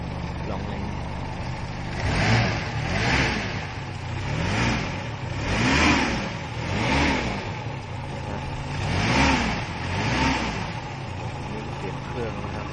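A Toyota KE30 car engine revs up and falls back again and again in a regular rhythm, rising and easing roughly every second, loud and close.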